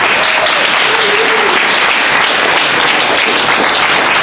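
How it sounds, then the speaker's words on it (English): Loud, dense audience applause at a hack day closing session, a continuous close-up roar of many hands clapping throughout. "another round of applause for Cindy"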